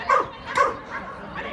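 A dog barks at an agility competition, giving two sharp yips close together followed by softer whimpering barks, with crowd or commentator noise faintly beneath.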